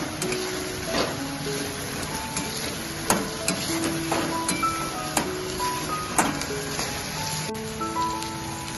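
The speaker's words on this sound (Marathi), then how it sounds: "हे कोथिंबीर वगैरे सगळं टाकलं आता आणि ती परतून घेऊ आपण." Onion, tomato, curry leaves and coriander sauté in a pan with a dense, continuous sizzle and repeated scraping stir strokes and clinks throughout, heard up close with no talking.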